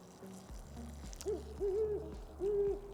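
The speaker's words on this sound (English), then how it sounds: "Is that an owl? That's an owl." An owl hoots outdoors on a cold evening walk, giving three fairly faint, evenly spaced hoots over a quiet background with no talking.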